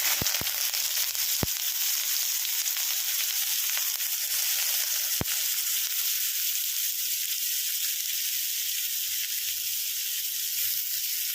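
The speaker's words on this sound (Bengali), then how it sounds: "এখানে আমি প্রথমে একদম কুচি করে রেখেছি পেঁয়াজ ছেড়ে দেবো।" Finely chopped onions frying in hot mustard oil give a loud, steady sizzle that fills the whole stretch, with a few sharp pops near the start and no talking.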